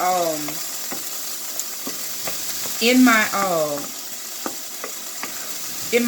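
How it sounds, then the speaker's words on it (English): Oil sizzles steadily as vegetables fry in a pan, with a continuous hiss broken by occasional scraping stir sounds and brief squeaky tones. "So I'm just frying them down just a tad"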